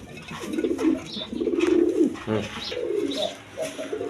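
Indian Kaldom pigeon cooing in repeated low, throaty rolls at close range, several coos running across the stretch with faint background noise and no talk.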